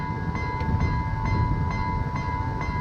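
A train running, a loud continuous low rumble with a steady tonal whine and faint regular clicks of wheels on the track.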